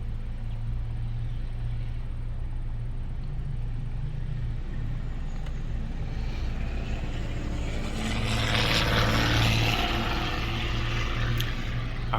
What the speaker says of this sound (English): all those noisy cars are done driving by